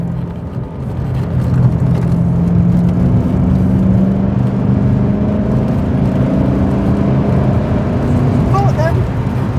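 A factory V8-swapped MG ZT 260 with Mustang power cruises uphill in top gear, a steady low engine rumble and road noise heard from inside the car while people talk.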